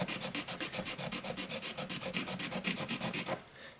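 A cloth wipes dust from the fretboard of a 1970s Greco Les Paul Professional guitar: a quick, steady run of about two dozen soft rubbing strokes, close and quiet, then a brief fade to stillness.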